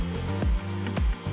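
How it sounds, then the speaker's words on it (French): A vacuum cleaner sucks up concrete sanding dust on a stair being coated with polished concrete, a steady close whine broken by short scraping pulls of the nozzle. "J'aspire."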